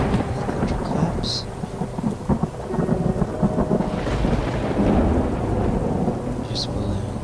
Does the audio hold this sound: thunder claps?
yes